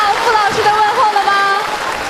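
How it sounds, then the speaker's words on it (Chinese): Warm audience applause fills the Shengzhou theatre during a televised gala for the Yue opera centenary, a steady dense patter of clapping with voices and tonal sound running over it. "您听到家乡人民热情的掌声了吗？"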